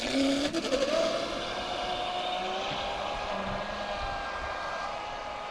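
A Traxxas Spartan RC boat on 6S power with a 44 by 1.6 two-blade prop runs on a pond, its electric motor giving a high steady whine that rises in pitch, loud at first and then fading slightly as it moves off.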